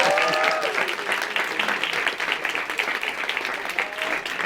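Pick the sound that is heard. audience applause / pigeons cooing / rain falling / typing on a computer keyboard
audience applause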